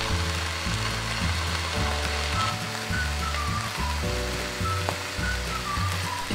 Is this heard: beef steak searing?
yes